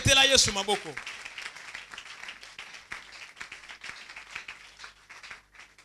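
A church congregation applauding and cheering for Jesus during a service, a loud burst of clapping at the start, then scattered claps continuing under voices, fading toward the end.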